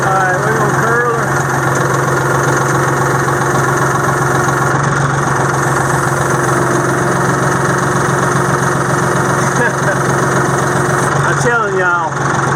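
A tractor loader engine idles steadily at close range, a constant low rumble with vibration running through the whole stretch.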